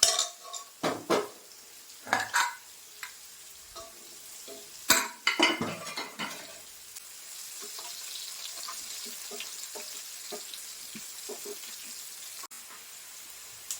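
Eggs frying in a pan for an egg roast in a home kitchen, a faint sizzle running under clattering utensils, scraping and a running tap, with someone talking at times.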